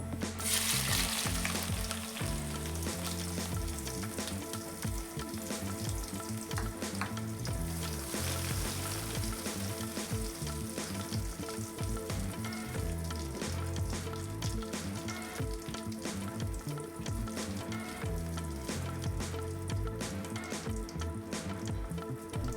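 Chopped garlic and mashed olives frying in a pan for pickle, a steady close sizzle throughout with intermittent stirring scrapes and crackles, no talk.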